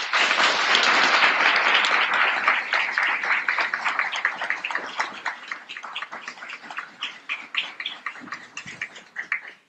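A large audience applauds to welcome a speaker, starting as a loud dense wash of clapping and thinning out into scattered individual claps that fade away by the end.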